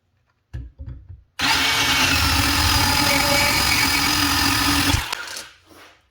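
Dewalt 18 volt cordless bandsaw cutting through stock, a few handling knocks then a loud steady whining buzz for about four seconds before it cuts off and spins down.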